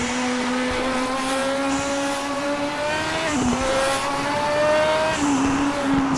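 A race car engine in the RaceRoom racing game drones loudly and continuously, its pitch climbing through the revs, dropping sharply at gear shifts and climbing again.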